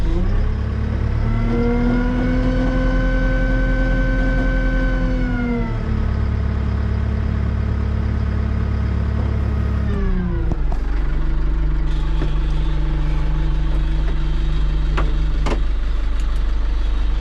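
Tractor engine running steadily as heard from inside the cab, a loud droning hum with a strong harmonic tone that rises, then drops sharply near the ten-second mark and settles into a lower, rougher idle.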